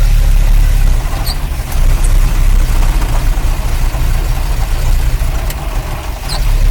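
A 1953 Oldsmobile Rocket Super 88 barn find idling with fuel pump pressure restored, a loud, steady low rumble close by that holds without a break and carries no talk.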